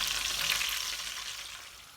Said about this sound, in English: So here you can see I fried all the chicken.